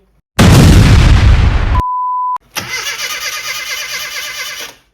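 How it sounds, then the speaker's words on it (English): A limited edition Rover Mini's engine cranks loudly up close in a harsh burst, breaks off for a moment with a brief electronic tone, then cranks again in a rapid, rattling rhythm without catching. "So now all that was left to do was turn the engine over and try and start it."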